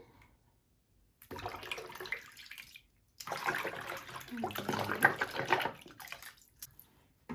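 Canvas sneakers being lowered into a basin of soapy water mixed with washing powder, giving two bursts of sloshing and splashing close by, separated by a brief quiet pause.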